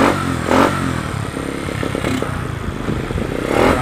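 Bajaj CT 100 motorcycle engine running on battery ignition, close and loud, with a choppy irregular putter, clattery mechanical knocks and brief throttle surges near the start and end.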